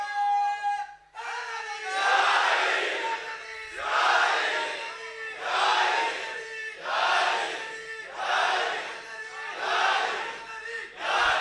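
At a religious mehfil, a large crowd shouts a religious slogan (naara) in unison, repeating a loud chant roughly every two seconds in a steady rhythm.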